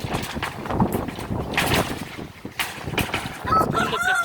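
Chickens from a flock of eleven hens in a backyard coop cluck and squawk close by, a busy, uneven stream of bird calls with no talking.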